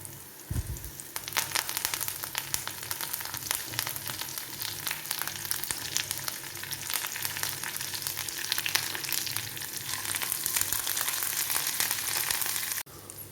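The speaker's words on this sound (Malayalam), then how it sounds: "ഇനി നമുക്ക് കറിവേപ്പില ഇട്ട് കൊടുക്കാം" Curry leaves sizzle and crackle in hot oil while dried fish pickle is being made, a dense, steady frying hiss that starts with a sudden burst and carries on loud and close until it cuts off near the end.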